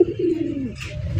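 Golla racing pigeons coo in a soft, low, rolling burble that swells and fades over a second, close by, with a brief rustle near the end.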